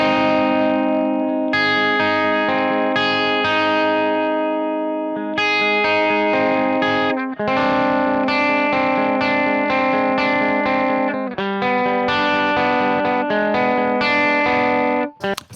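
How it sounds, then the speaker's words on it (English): Solo electric guitar recorded with a Soundtoys tremolo effect in eighth notes plays sustained, pulsing chords and melody lines with a steady rhythmic throb. It is close and full, with no talk over it. "Let's listen to the tremolo guitar in solo."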